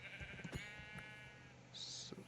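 A sheep bleating in a video game, one drawn-out wavering bleat followed by a faint short sound, fairly quiet over a low game background.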